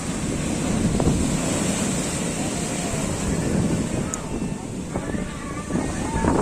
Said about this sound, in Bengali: দেখতে পাচ্ছ পুরো সমুদ্র উত্তাল রয়েছে একদম দানবীয় ঢেউ